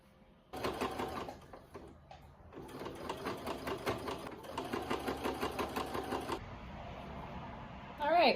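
Sewing machine hemming a pair of pants, its rapid stitching running in several bursts with short pauses between, close and fairly loud, with light handling noise around it.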